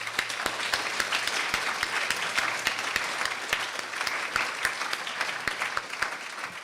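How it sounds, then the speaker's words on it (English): An audience at a youth awards ceremony in the South West applauds an award winner, sharp individual claps standing out from a continuous, lively round of clapping that runs the whole length. "After giving this young person a huge applause"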